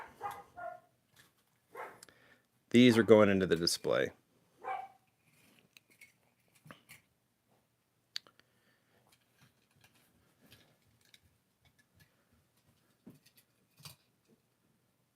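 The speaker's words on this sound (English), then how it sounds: "There's the dog, angry." A house dog barks angrily at someone at the door, a loud, rapid burst of barks that stops abruptly, followed by near silence with faint clicks. A person speaks briefly before the barking.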